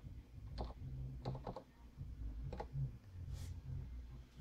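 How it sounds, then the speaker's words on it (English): Someone types on a computer keyboard, a few sparse, quiet clicks in short clusters against a low background hum. "I'm gonna just start typing."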